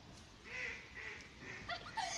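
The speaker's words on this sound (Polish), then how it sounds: "Nawet kaczka się zaśmiała." A duck quacks a few times, faint and fairly distant, in a drawn-out laughing pattern outdoors by water during a spinning fishing trip.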